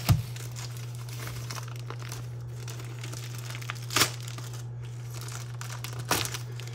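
A taped plastic comic bag is opened, with sharp crinkles and tearing bursts standing out over a constant low electrical hum, near and otherwise quiet.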